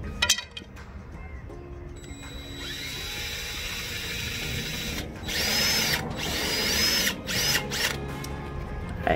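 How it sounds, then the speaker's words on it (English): A power drill whines loudly and steadily for several seconds drilling a center hole, its pitch shifting as it bites into material, with short pauses and no speech. "Just gonna drill the hole in the center"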